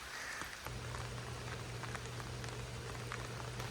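Rain falls steadily at a wooded campground, a soft even patter on surfaces with occasional louder drips and a low hum underneath, no talk.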